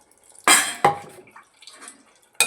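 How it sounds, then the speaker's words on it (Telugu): Water poured into a pan of drumstick and tomato curry, giving two quick splashing bursts close by, then quieter bubbling and a final splash, with no talking. "కొన్ని వాటర్ యాడ్ చేసుకుందాం"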